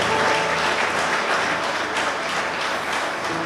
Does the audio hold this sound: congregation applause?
yes